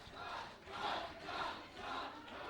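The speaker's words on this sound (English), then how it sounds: "And the crowd is chanting Todd Sexton's name" A wrestling crowd at an NWA Wildside Christmas Chaos show chants in rising and falling waves, a massed roar of voices swelling roughly every half second to second, moderately distant and filling the arena.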